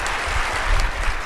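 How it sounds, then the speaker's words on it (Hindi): Audience applause at a spiritual discourse as a guru thanks a student for a question: dense, steady clapping from a crowd, fairly loud and continuous with no pauses, heard alone with no voices over it. "ताली बजाकर धन्यवाद दूं।"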